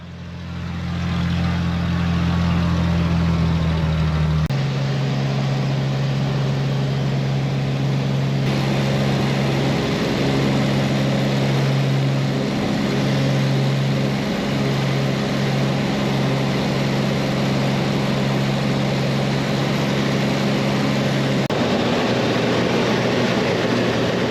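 Steady, loud engine drone inside a small propeller plane flying over the Nazca Lines, continuous throughout with a slight shift in pitch partway through.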